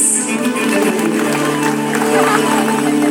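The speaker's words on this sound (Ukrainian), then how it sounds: "Вітайте оплесками наших переможців" Audience applause and some cheering at an outdoor wine festival awards ceremony, a continuous loud wash of many hands clapping with crowd voices blended underneath.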